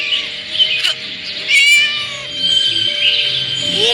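A cat meows and caterwauls indoors, with a few drawn-out, wavering cries, one of them louder near the middle, and no talking.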